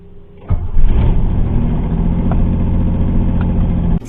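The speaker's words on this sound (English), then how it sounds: "Still's got the exhaust leak, you can still hear it." A 1980s Pontiac Fiero GT engine with an exhaust manifold leak idles steadily with a rough, puffing rasp from the exhaust, close and continuous, with a slight rev near the start.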